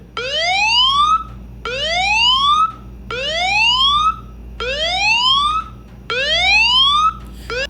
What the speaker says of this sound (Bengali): মোবাইলে টাচ করার সাথে সাথে দেখুন এইরকম অ্যালার্ম বাজবে